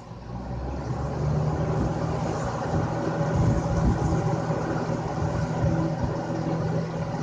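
A 1990s Lasko 20-inch box fan with a Marco motor runs on high, giving a steady, close whooshing hum with a low motor drone and no change in level.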